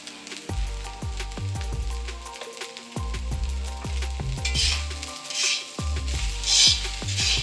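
Salmon fried rice sizzles in a hot pan while a utensil scrapes and stirs in repeated strokes, close and fairly loud, with bursts of crackling spatter.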